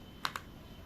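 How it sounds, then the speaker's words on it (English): Two quick keypresses on an AULA F75 wireless mechanical keyboard, crisp close clicks a fraction of a second apart over a quiet room hush. "Now click on this rectangular bar and press F4 keyboard key."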